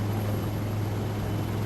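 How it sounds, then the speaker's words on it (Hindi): A helicopter hovers at an Army Day parade ground, a loud, steady rotor drone with a constant low hum throughout. "वास्तविक में यहाँ पर 2 हेलीकॉप्टर्स हैं परेड ग्राउंड के दाएं और बाएं"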